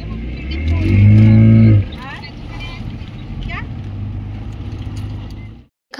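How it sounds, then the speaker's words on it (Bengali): A speedboat races across the lake at Maithon Dam and bounces over the water: a loud engine roar at first, then a steadier hum under wind and splashing, with a brief gap of silence near the end. "এখান থেকে বোটটা এত জোরে যাচ্ছিল যে বোটটা পুরো লাফাচ্ছিল"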